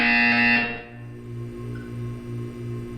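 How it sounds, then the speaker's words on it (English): A buzzer tone in the game Portal 2 sounds as a steady pulsing low drone under a brief higher tone at the start, moderately loud and with no talk over it. "You will hear a buzzer."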